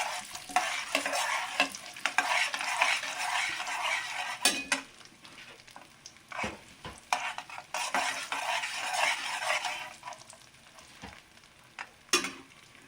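Chana dal, urad dal and cashews frying in hot oil on a low flame for rava idli tempering, a bright crackling sizzle with frequent spoon stirs and metal clinks, close and continuous without talk.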